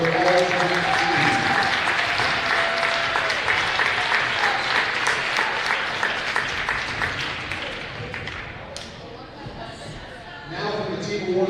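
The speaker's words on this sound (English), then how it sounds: "Let's have a warm round of applause for your all-time team." Warm crowd applause in a gym honoring the all-time team at a WVCAT girls basketball championship presentation, full and steady before thinning out and fading toward the end.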